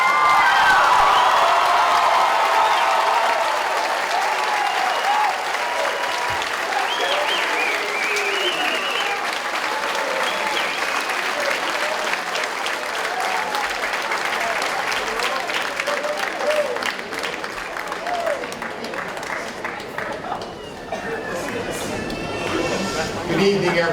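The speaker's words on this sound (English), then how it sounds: "Let's give them a round of applause." Audience applause for a graduating class at a senior ceremony, with sustained clapping and some cheering from the crowd, fairly loud and continuous, with voices mixed in.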